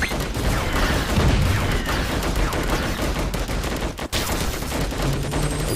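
Dense, continuous gunfire from the guns in the video game Defend Your Life rattles nonstop in rapid overlapping bursts, loud and busy throughout.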